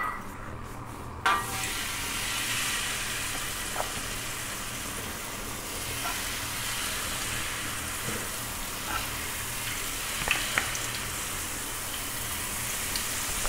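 Kuih tumpi batter fries in hot oil in a wok, a steady loud sizzle that starts abruptly and holds for the whole stretch, with a few faint clicks and taps of a utensil.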